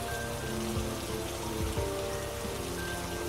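Steady rain falls on a surface, making a dense, even patter with a few scattered heavier drops, fairly soft and continuous with no voices.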